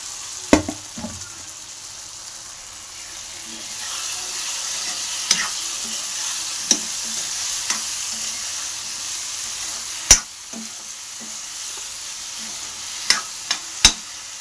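Potatoes frying with spices in a pan: a soft, even sizzle that grows a little louder midway, broken by sharp clacks of a spoon against the pan at irregular intervals, with no one speaking.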